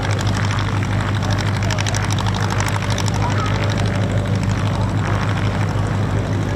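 At an airshow, a gyrocopter's rotor spins up to low RPM over a loud, steady engine drone with a fast regular beat from the blades, close and continuous throughout.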